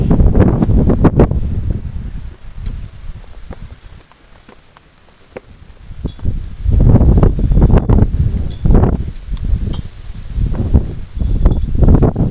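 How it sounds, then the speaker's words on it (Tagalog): Strong wind buffeting the microphone at an outdoor hilltop plaza, loud gusty rumbles that ease briefly midway then return in bursts, with faint footsteps or rustling underneath. "lakas ng hangin."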